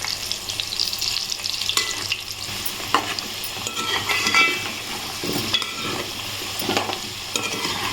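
Gooseberries boil in a pot for a pickle, making a continuous close, dense bubbling and sputtering with occasional stirring knocks and no talk.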